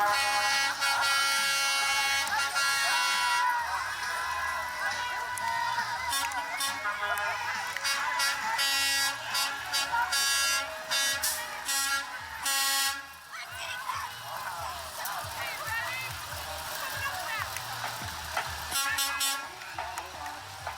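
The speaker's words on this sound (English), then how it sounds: "We've got two trucks out here, two big trucks out here." Big waste management garbage trucks sound loud air horns in a street Santa Claus parade, with long blasts repeating over roughly the first thirteen seconds and shorter toots later, over a constant engine rumble.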